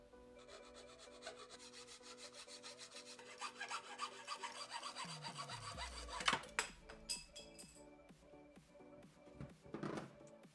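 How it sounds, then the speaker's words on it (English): Hand sawing through red sandalwood pieces, with a quiet, close rhythmic rasp of repeated strokes, then scraping and shuffling handling sounds. "I'm gonna cut out 2 pieces like this from the red sandalwood"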